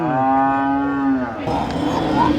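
A cow at a cattle market gives one loud, close, drawn-out moo, and the market's mixed background noise follows it.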